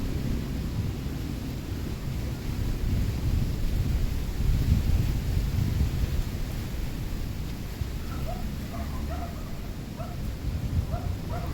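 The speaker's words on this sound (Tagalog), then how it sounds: "mahangin" Wind gusts and buffets steadily at an outdoor air rifle range, a loud low rumble against the microphone, with a dog barking faintly in the distance near the end.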